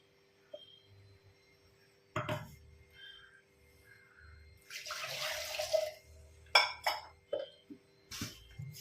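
Water splashes and trickles into a pot of brinjal and dried mackerel curry for a few seconds, followed by several sharp metallic clinks of utensils against cookware.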